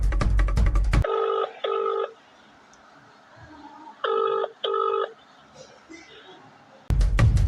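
A phone number is keyed in as two quick bursts of dialing tones, a pause, then two more bursts, with faint background sound and a voice before and after.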